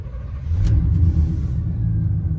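A square-body Chevrolet Suburban's engine catches and settles into a loud, close, low rumbling idle, with a brief bright click near the start.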